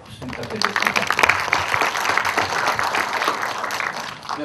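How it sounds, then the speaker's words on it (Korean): An audience at a post-screening talk for the 2011 film 밀월도 가는 길 bursts into lively applause that swells and then holds steady, with a voice briefly heard. "박수 부탁드리겠습니다"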